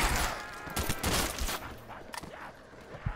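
RPK machine gun fire in a zombies custom map video game, rapid bursts of gunshots ringing out loud and close, with short gaps between volleys.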